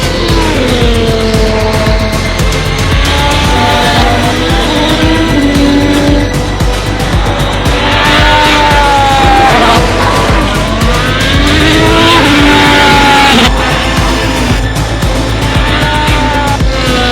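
A Ferrari Formula 1 race car engine screams at high revs near Maranello, very loud and sustained, its pitch sweeping up and down through gear changes over about seventeen seconds.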